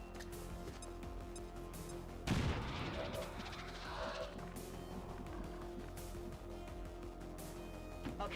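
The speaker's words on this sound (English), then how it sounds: "Grenade out." A grenade explodes in the video game XCOM 2, one sharp, loud blast with a rumbling tail, followed by quieter game sounds and music.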